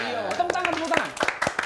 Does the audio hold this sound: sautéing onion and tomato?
no